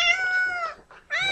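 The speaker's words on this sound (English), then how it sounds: "for my last video, here's my cat." A female cat meows at close range: two drawn-out, tonal meows separated by a short pause, loud and clear with no talking.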